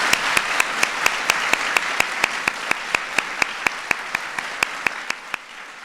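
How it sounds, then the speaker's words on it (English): An audience at a ceremony honoring National Medal for Museum and Library Service recipients applauds the honorees, with one crisp, evenly timed clap standing out above a steady bed of crowd applause that keeps going throughout. "let's give one more round of applause to today's honorees"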